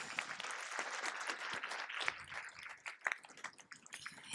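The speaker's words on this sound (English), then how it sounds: "Can I get a round of applause for these guys?" A modest audience at a medical school event claps for sponsors, scattered and fairly soft, with a few sharper individual claps standing out as the round of applause thins toward the end.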